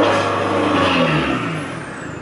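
A VW Golf 2.0 GT TDI diesel engine revs up and then eases back, a loud, close rising roar that falls away as the throttle is released.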